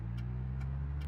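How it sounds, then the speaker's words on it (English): A car's turn signal ticks in a steady rhythm inside the cabin, three crisp clicks over a low engine hum. "I got too distracted by the blinker noises."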